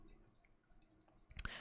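A few crisp mouse clicks near the end, sharp and close, over a faint quiet room hiss while working in Premiere Pro or Vegas Pro editing software.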